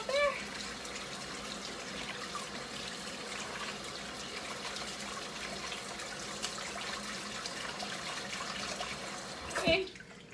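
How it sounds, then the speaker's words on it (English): Tap water runs steadily into a sink while hands are washed clean of butter in a home kitchen, a continuous close splashing flow with a brief clatter near the end. "Wash my hands again, get all that butter off there."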